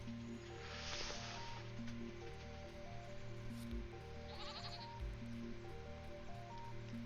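Goats bleat in a springtime farming video game, with a few short bleats rising over a steady bed of game music and ambient hum.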